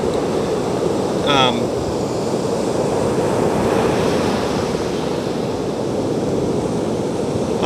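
Ocean surf rolls onto a Brevard County beach in a continuous loud wash mixed with wind buffeting the microphone, with a brief tonal chirp early on.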